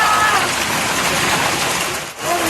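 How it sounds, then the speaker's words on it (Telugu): Heavy hail and rain pour down in Bengaluru at the Catholic Club, a dense, loud, continuous wash of falling water with brief faint tones over it. "క్యాథలిక్ క్లబ్లో వడగళ్ల వాన పడుతుంది"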